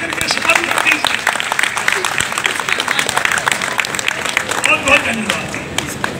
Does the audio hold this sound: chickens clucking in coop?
no